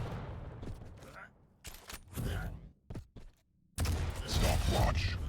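A rocket launcher fires in a first-person video game duel, with bursts of blasts and gunfire-like impacts that come in clusters, then a dense, loud run of explosions near the end.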